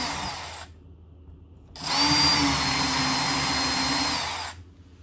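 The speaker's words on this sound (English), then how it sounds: "Pre-drill the holes for the bracket." A power drill pre-drills screw holes for a mounting bracket: a brief whine, a pause, then a longer steady high-pitched run of the motor lasting a few seconds before it winds down, loud and close with no talk.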